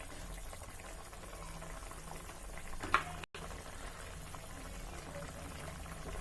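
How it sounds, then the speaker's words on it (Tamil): Small onion theeyal, a Kerala-style curry, boiling steadily in a pot, giving a continuous bubbling simmer at moderate level, with a brief clink partway through and no talking. "இப்போ நல்லா கொதிச்சிட்டு இருக்கு"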